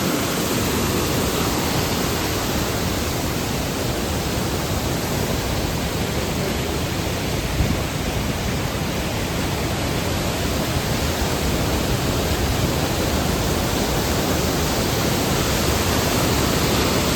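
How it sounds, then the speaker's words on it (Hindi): A fast-flowing mountain stream beside the Kedarnath trekking path roars steadily and loudly, a dense unbroken rush of water close by with no voices over it. "अब ये देखो कितनी स्पीड से आ रहा पानी।"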